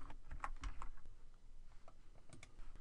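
Rapid, uneven clatter of keys on a computer keyboard as code is typed, close and quiet, in short bursts with brief pauses between.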